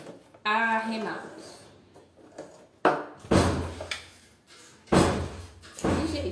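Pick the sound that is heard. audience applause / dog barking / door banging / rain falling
door banging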